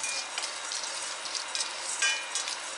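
Whole spices for Thalassery biryani masala dry roast in a pan over a medium flame, giving a soft, continuous crackle and rustle with brief brighter bursts as they are stirred, with no voices.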